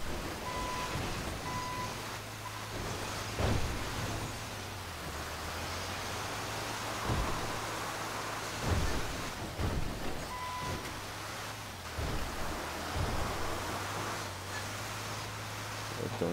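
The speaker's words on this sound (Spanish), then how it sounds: "Y es por la pinche lluvia." Steady rain hisses through a GTA 5 driving scene, with a low engine drone and a few faint soft thuds. No clear thunder stands out.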